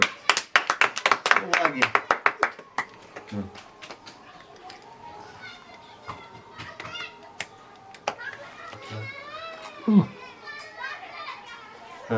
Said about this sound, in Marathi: शाबाश टाळ्या वाजव त्यासाठी